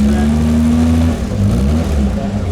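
A 1952 Jaguar C-Type sports car's engine revs close by at a car show, a loud mid-pitched rise in pitch followed by a fall.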